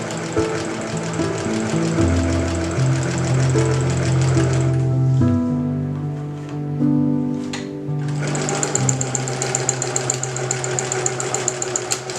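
Sewing machine running continuously and close, a loud whirring motor hum with rapid needle chatter, easing briefly in the middle before picking back up.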